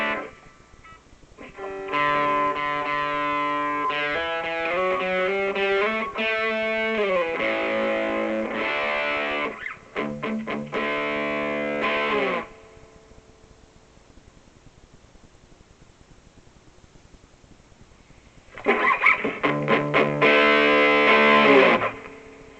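Guitar played through a finished portable solid-state amp with high gain and spring reverb, distorted strummed chords and riffs in two bursts separated by a quiet stretch of low amp hum and hiss.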